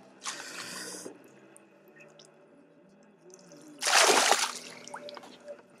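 A landing net is dipped into lake water from a fishing boat on Zemplínska Šírava, giving two short, close splashy swishes separated by a quiet pause, the second louder and longer.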